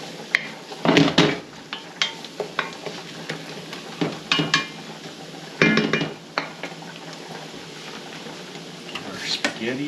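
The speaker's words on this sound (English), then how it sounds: "Spaghetti is stirred here." Spaghetti is stirred in a pot, with intermittent clanks and scrapes of a utensil against the metal, some louder bursts, over a quiet kitchen background.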